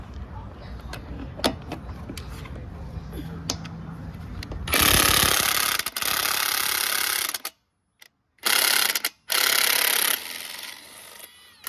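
An impact gun tightens a bolt in three loud, harsh rattling bursts, the first lasting a few seconds and the next two shorter, separated by brief silences, after a stretch of quiet shop noise.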